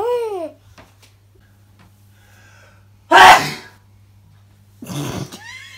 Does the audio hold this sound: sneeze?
yes